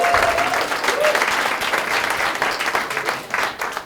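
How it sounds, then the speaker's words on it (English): Sustained round of applause from a conference audience welcoming a speaker back to the stage, dense and steady throughout with crowd noise mixed in. "So massive round of applause for Tracy, please."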